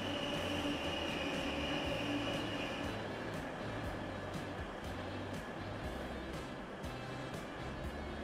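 A train in the video game Transport Fever rumbles steadily along the track at a moderate distance, a continuous rolling drone with faint wheel noise throughout.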